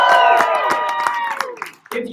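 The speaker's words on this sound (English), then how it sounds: "If you think Kenton would win, if you think Kenton would beat the literal embodiment of death, applause." A crowd claps and cheers in response to a call for votes at a live fan event, with a voice talking over the scattered clapping and applause throughout.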